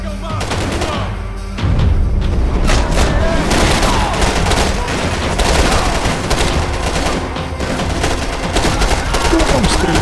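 Dense bursts of rapid gunfire crackle continuously in the video game Max Payne 3, with booming shots layered over a busy, noisy background.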